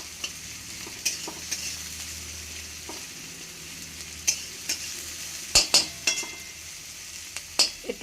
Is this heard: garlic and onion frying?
yes